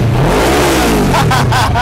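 A custom Kawasaki ER6 motorcycle's engine runs loud and close, its pitch sweeping up and down as the throttle is blipped, with short bursts of voices over the engine noise.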